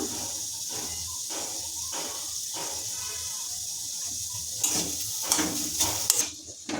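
Chicken with boiled potatoes and chopped chilli sautéing in a pan, a steady sizzling hiss throughout with occasional louder clatters and stirring scrapes near the end.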